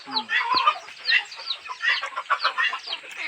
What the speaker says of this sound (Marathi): ह्या बाहेरच्या कोंबड्या त्या पण त्याच्यातलंच आहेत